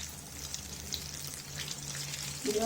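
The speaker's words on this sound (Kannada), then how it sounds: "ಫುಲ್ ರೋಲು ಗೋಲ್ಡನ್ ಬ್ರೌನ್ ಬರೋವರೆಗೂ ನೀವು ಡೀಪ್ ಫ್ರೈ ಮಾಡ್ಕೋಬೇಕು" Bread rolls deep frying in hot oil, a steady soft sizzle and bubbling throughout, fairly quiet and even, with a slight rise in intensity near the end.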